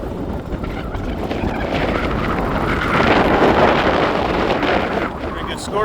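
Steady gusty wind buffets the microphone outdoors at National Trail Raceway, a drag strip in Hebron, Ohio, a dense continuous roar that swells louder midway and stays loud throughout.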